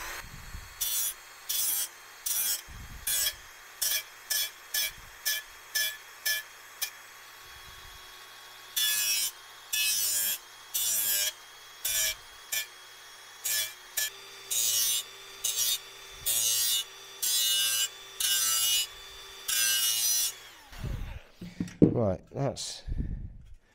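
Hand file rasping a radius onto the edges of a machined part for a custom Honda CB1100RS motorcycle build, heard as rhythmic bursts of close, bright strokes in quick runs, with a short pause between sets and a clatter at the end.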